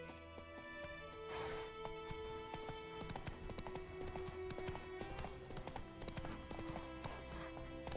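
Horse hooves gallop in a fast, steady clip-clop in The Witcher 3, with an occasional whinny over layered game music and ambience.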